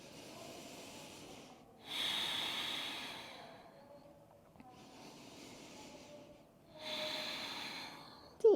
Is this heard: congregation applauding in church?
no